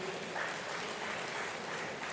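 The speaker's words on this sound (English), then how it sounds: "Let's give a round of applause to Professor Sam Egu" A crowd at a Nigerian democracy anniversary public lecture applauds the keynote professor, a short, even patter of clapping heard from a moderate distance.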